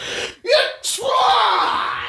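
A voice imitates an aggressive sneeze, a sharp inhaled build-up followed by a loud, forceful burst and a drawn-out trailing cry, close and alone.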